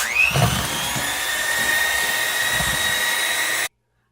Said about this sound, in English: And again, I'm on speed 1 with my mixer.